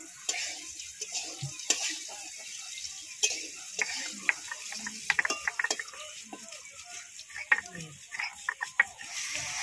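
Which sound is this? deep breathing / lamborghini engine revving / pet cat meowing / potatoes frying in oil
potatoes frying in oil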